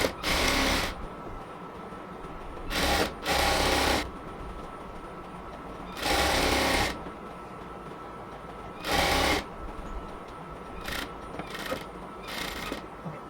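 A sewing machine stitches salwar pant fabric in short bursts of whirring, each a second or so long, separated by quiet pauses, heard close up without speech.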